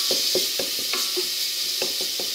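Bacon lardons fry in a hot pan, giving a steady crackling sizzle broken by regular scraping clicks as they are stirred.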